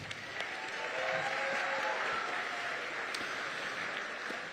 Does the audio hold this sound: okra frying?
no